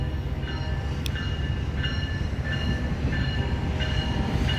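A Loram rail grinder train rolls through Effingham, Illinois, producing a steady loud rumble with repeated metallic screeching tones and one sharp high click, with no voices.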